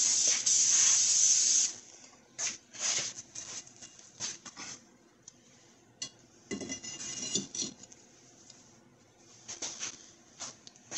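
Fluid Film sprayed from an aerosol can onto a cleaned brake rotor on a 2011 Ford Fusion during wheel bearing work, a loud close hiss lasting about two seconds followed by several shorter bursts, with light metallic clinks between them.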